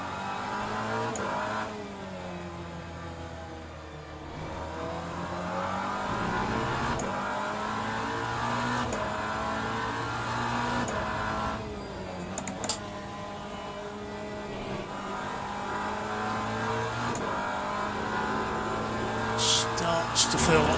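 A hypercar in the racing game Le Mans Ultimate runs a lap, its engine note rising and falling through gear changes and revs across the whole stretch, with a few faint clicks near the end.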